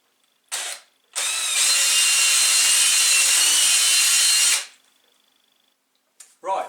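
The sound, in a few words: drilling out old cable end on pit bike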